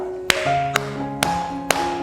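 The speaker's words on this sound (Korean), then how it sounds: "먼저 전주에 신나게 박수 쳐주시는 거예요." Audience at a senior college dance class claps along to the upbeat intro of a trot song, four sharp, evenly spaced claps standing out over steady music.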